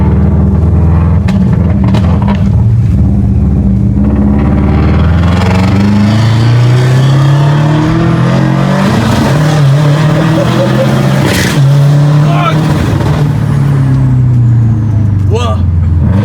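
Tuned Subaru GVB engine revving with rising and falling pitch sweeps, loud and close, with people talking throughout.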